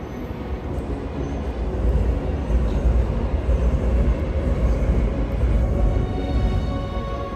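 A Dubai metro train rolls along an elevated track as a broad, steady rumble that swells slightly through the middle, heard from street level, with no talk over it.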